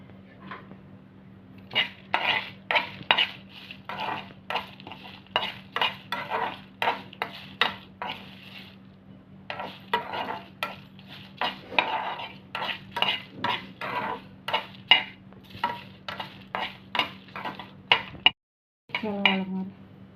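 Black sesame seeds stirred and dry-roasted in a pan, with a steady run of rhythmic scraping and rattling strokes against the metal over a constant low hum, broken by a brief pause near the end.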